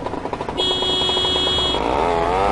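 A scooter horn in the video game GTA Vice City blares as one steady, buzzy electronic tone for about a second, sounding loud and close over the low hum of the idling engine.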